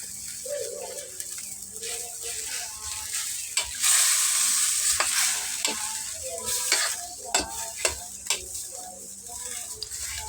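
Pork and chicken afritada stew being stirred in a frying pan, a steady sizzle with repeated scraping strokes and clinks of the utensil, close up, with occasional bird coos in the background.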